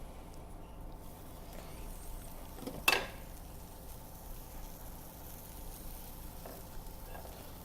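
Onions fry in a pan for a grilled cheese, a soft, steady sizzle close by, broken once by a brief sharper crackle or scrape partway through, with no talking.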